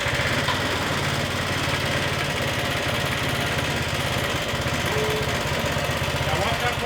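Rebuilt 420cc ATV engine running with its torque converter engaged, a loud, steady, pulsing drone close up, with voices talking over it.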